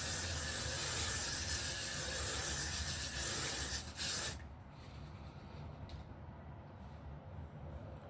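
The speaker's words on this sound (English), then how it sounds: "I don't do setting spray, I'm old school, I use hairspray." Hairspray from an aerosol can is used as a makeup setting spray, giving a close, strong continuous hiss for about four seconds before cutting off into quieter background noise with faint rustling.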